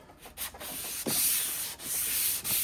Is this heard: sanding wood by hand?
yes